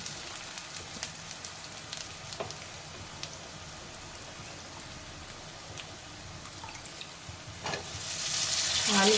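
Potatoes frying in oil with ginger-garlic paste in a pan for aloo tomato curry, a soft, crackling sizzle with scattered pops and a few clanks, and a hissing rush swelling at the end.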